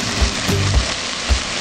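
White wine simmering in a pan for a cream-based asparagus bisque gives a steady, bright sizzle and bubble, with a few soft low thumps scattered through it.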